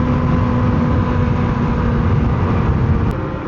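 A Zontes G1 Scrambler motorcycle cruising slowly along unlit Belgrade streets at night, giving a continuous, even engine and road rumble that stays steady throughout, with no voices.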